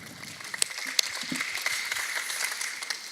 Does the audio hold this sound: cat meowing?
no